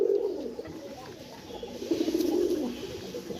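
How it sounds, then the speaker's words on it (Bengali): Domestic pigeons, two females kept with one male while sitting on eggs, coo in low, throaty murmurs close by. The cooing swells and fades in repeated waves against quiet background rustling, with no voices. "দুইটি মাদি কবুতর একটি নর কবুতরের সাথে মিশিয়ে"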